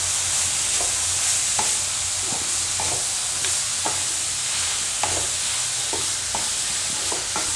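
Grated beet with black salt, amchur powder and chaat masala is stirred in a hot pan, giving a steady loud sizzle broken by regular spatula scrapes and taps against the metal about every half second.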